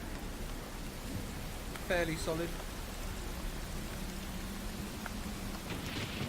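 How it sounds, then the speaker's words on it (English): Steady rain from the "Dark and Stormy" sound effect by Battle Bards, an even hiss of falling rain on surfaces, with someone speaking briefly over it. "Just, you know, just fuck it, it's raining. It covers everything."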